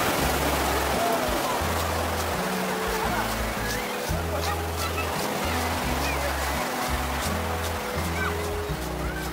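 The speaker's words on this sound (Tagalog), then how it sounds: "Ang lalaki ng alon." Loud, constant rushing of rough sea water as big waves churn close by at Hap Mun Bay in Sai Kung, Hong Kong, a dense roar with no clear pauses.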